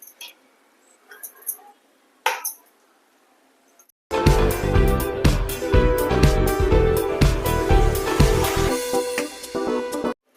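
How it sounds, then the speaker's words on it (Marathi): A mixer grinder works masala paste for a halwa fish curry: a few quiet clicks and knocks come first, then a loud, dense grinding roar runs steadily for about six seconds and stops abruptly. "हलव्याच्या रशाचा वाटर लावून घेते मिक्सरला"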